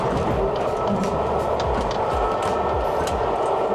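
A British luxury train riding on the rails, a loud continuous rumbling roar with faint rhythmic clicks of the wheels, heard from inside the carriage.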